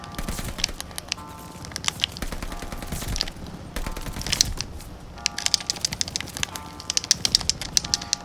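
Video game gunfire plays as bots are shot for aim practice on a controller. Rapid shots crackle in dense, repeated volleys for several seconds, close and fairly loud.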